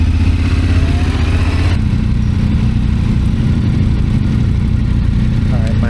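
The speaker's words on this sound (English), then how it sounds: "My focus is going to be staying on the throttle and just staying in the friction zone, keeping the throttle constant" A Yamaha Ténéré 700 engine runs at a steady throttle during a motorcycle safety class, a loud, close, even mid-pitched drone with a continuous low thrum and no revving, with a slight shift in tone partway through.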